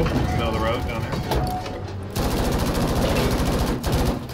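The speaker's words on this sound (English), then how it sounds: "just firing some shots" Rapid automatic gunfire from Battlefield 5, dense bursts of machine-gun fire running almost continuously with a brief lull, loud and close, with players talking over it.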